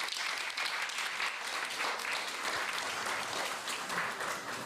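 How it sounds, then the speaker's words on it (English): Sustained applause from a temple congregation at ISKCON Dallas, dense and steady throughout, a broad wash of many hands clapping at moderate distance with no talk over it. "Let's give them a big round of applause"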